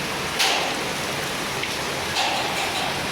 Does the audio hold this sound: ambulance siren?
no